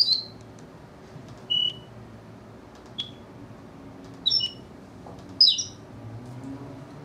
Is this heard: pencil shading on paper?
no